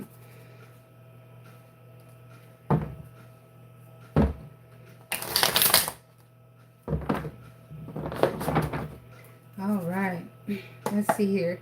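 Tarot cards are shuffled in a few short papery bursts with quiet knocks and taps between them, and a voice comes in briefly near the end.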